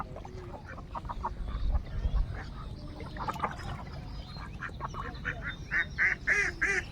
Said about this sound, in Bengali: হাঁসগুলো পালিয়ে যাচ্ছে ভয়তে